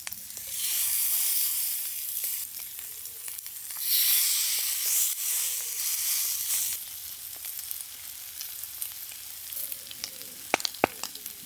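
Lamb chops sear in a pan outdoors at a tarp camp, giving a loud, close, steady sizzle that swells and fades, with sharp pops and crackles toward the end.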